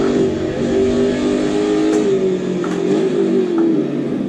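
A Holden Commodore Group A car with a 5-speed manual gearbox accelerating, its engine holding a loud, steady, close drone that rises slightly in pitch, with no voices.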